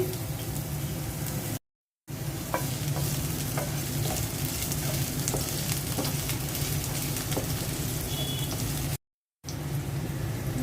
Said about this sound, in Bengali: মুরগিটা রান্নার জন্য ফ্রাই প্যানে তেল দিয়ে দিয়েছি এখন পেঁয়াজ দিয়ে দিচ্ছি